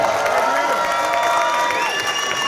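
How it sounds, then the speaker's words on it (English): A large wrestling crowd cheers and applauds continuously, with shouting and whistling voices blending into a dense, loud roar. "I want you all to give yourselves a massive round of applause"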